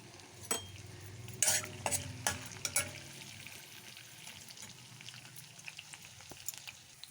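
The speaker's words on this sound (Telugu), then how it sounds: "కొద్దిగా ఆయిల్ వేసుకొని పోపు దినుసులు వేసుకోండి" Quiet sizzle of tempering spices frying in a little oil, with a few crackling pops early on, then a soft steady hiss continues; a faint, close cooking sound without talk.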